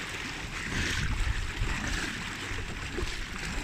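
Waves from a passing wave runner's wake lapping steadily against a homemade barrel boat on open water, a continuous close wash with light wind and no talking.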